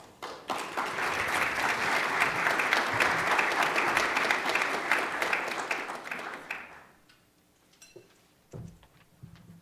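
Audience applause welcomes Janice to the stage at the Creating The Future conference, a steady dense wash of clapping for about six seconds that fades into scattered claps and quiet room noise.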